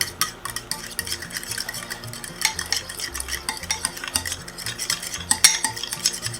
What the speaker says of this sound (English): And then we're going to mix this with the fork.